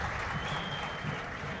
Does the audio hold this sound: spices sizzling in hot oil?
no